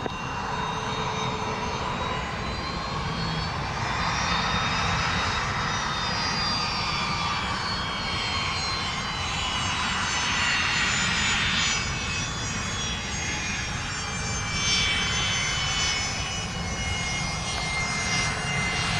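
Airliner jet engines roaring during takeoff at Montego Bay airport in Jamaica, a loud sustained rumble with a whining tone that holds steady throughout.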